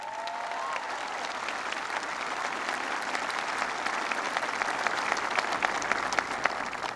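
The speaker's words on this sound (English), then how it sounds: "Give him a big round of applause." A large crowd of soldiers and families at Fort Stewart, Georgia applauds, a dense, sustained wash of clapping heard from a distance that swells slightly as it continues without any speech.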